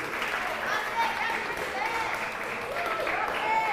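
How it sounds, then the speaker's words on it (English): An audience gives a continuous wash of applause and cheering for three female finalists at a competition, sustained and fairly loud throughout the short stretch. "a big cheer please for our three finalists"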